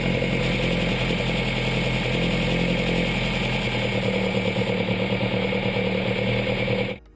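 Car engine fed by twin Weber DCOE carburetors runs at a steady idle, a continuous even drone with light mechanical clatter that holds close and constant before cutting off abruptly near the end.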